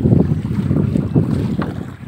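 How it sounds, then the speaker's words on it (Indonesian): Strong wind by the sea buffets the microphone with a heavy roaring rumble, gusting unevenly, with a hint of wavy seawater sloshing nearby. "Oh kencang angin guys"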